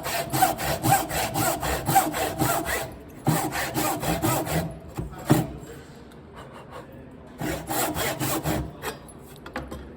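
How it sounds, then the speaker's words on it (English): A tenon saw cutting through wood in rhythmic back-and-forth strokes, close and loud, in three bursts of sawing with brief pauses between them as the cut is finished. "Okay, so tenon saw, ideal for ripping, and also because of the small teeth, we can then also do our cross cut."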